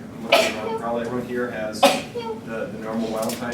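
A sneeze in a lecture room during a genetics class, one or two sharp bursts cutting through a lecturer's continuous talking.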